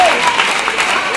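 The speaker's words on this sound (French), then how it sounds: "est-ce qu'on peut encore acclamer pour le Seigneur Jésus-Christ?" Church congregation applauding in acclaim of the Lord Jesus Christ, a loud, dense burst of clapping from a crowd for about a second.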